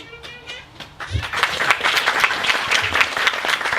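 Wedding guests break into applause after a speech, with scattered claps at first that swell into dense, steady clapping from a full room.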